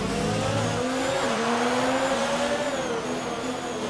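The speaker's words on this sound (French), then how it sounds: "On bloque une nouvelle fois les roues." Race car engine in F1 2019 at a high steady whine with the wheels locking under braking, a continuous loud scrubbing tyre squeal and drifting engine tones filling the whole stretch, no voices.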